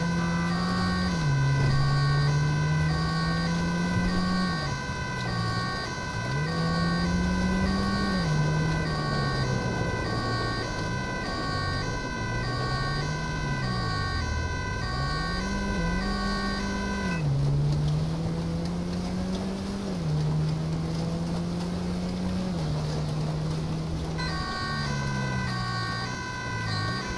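Ambulance siren in GTA 5, loud and close, wailing up and down in repeated sweeps over a steady engine hum, with one brief break before the wail resumes; no talk.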